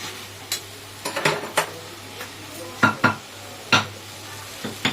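Mashed eggplant mixed with shahi garam masala and crushed cardamom, stirred by hand in a pan: a series of sharp scraping clacks of a utensil against metal in uneven bursts over a quiet background, with no talking.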